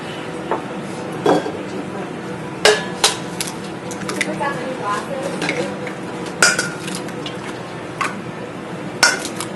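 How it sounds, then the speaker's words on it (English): Four eggs are cracked into a bowl, heard as several sharp, separate taps and clinks of shell on the rim spaced a few seconds apart, close by, over a low kitchen background. "we will crack 4 eggs."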